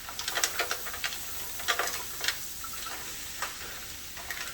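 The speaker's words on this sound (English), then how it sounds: "And then you wanna give this a good stir." Mussels with chorizo being stirred in a hot pan: steady close sizzle with a cluster of sharp scraping and clacking hits from shells and spoon, in irregular bursts, no voices.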